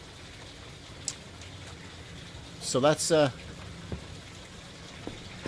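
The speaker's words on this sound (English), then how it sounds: "see, it's raining" Rain falls in the life-simulation game Big Ambitions, a soft constant patter in the background while someone briefly speaks over it.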